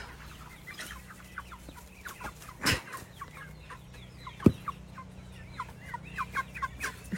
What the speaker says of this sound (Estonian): Tuli tahtmine ühte kanaga tuppa minna.